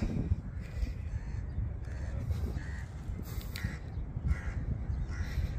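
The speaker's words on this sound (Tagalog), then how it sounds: "So may mga uwak, saka may mga migratory birds ka makikita dun tabing dagat." Crows caw repeatedly at a moderate distance over a low, rumbling outdoor background near the seashore at sunset, the harsh calls coming in scattered bursts.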